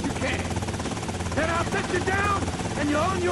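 A helicopter's steady rotor drone thrums in the Grand Theft Auto: Vice City video game, a constant chopping rumble with people talking over it.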